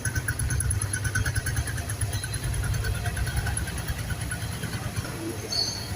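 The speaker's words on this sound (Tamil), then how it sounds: "இன்ஜின் நல்லா தான் இருக்குது, நல்ல சவுண்டாக இருக்குது." A new motorcycle's engine idles in Jaffna with a steady low rumble and throbbing vibration, continuous and close throughout.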